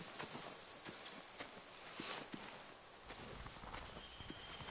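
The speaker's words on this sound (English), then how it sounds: "They have horses." Horses clip-clop at a steady walking pace in The Walking Dead video game, hooves thudding amid ambient game sound, with occasional high tonal chimes.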